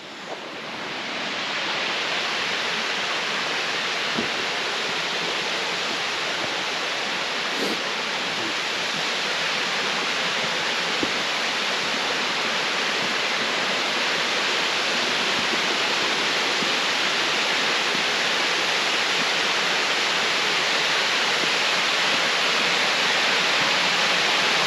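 A beautiful waterfall roars in a steady, loud, unbroken wash of rushing water, close by and constant throughout with no talk.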